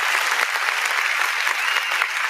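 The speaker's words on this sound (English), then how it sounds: "Give me some claps for that, eh?" A crowd of people claps steadily and loudly for the full stretch, a dense, continuous wash of applause with no pauses and no talking over it.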